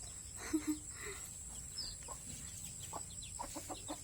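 Soft clucks and faint peeping from hens and chicks inside a chicken coop, scattered short calls at a modest distance over a quiet background hiss.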